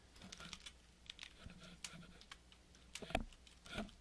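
Computer keyboard typing in a search field, quick irregular bursts of light clicks with brief pauses, close and fairly quiet, no talking.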